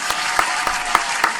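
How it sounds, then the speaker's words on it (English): Applause from a live-stream audience, a short, steady wash of clapping with a few louder, evenly spaced hits standing out in a regular rhythm. "Come on, round of applause."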